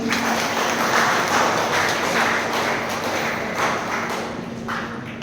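Applause from the audience at a women's achievement award ceremony in a hall, many hands clapping steadily and fairly loudly for several seconds over a faint steady hum, with no talking.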